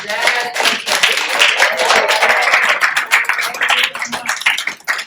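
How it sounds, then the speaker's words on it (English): Lively round of applause and cheering for the host at a community event, close and loud with distinct individual claps and voices mixed in, tapering toward the end. "Can we give a round of applause for our amazing host"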